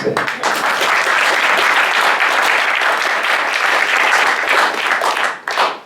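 Sustained applause from a large audience at a church mission congress in Besançon, a dense steady roar of many hands clapping for almost six seconds before tapering briefly near the end.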